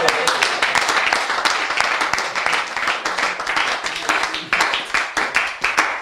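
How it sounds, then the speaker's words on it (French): A church congregation claps steadily and warmly for a preacher, dense continuous applause with overlapping hand claps and a few louder individual claps standing out, with faint voices underneath. "On acclame trop pour le frère."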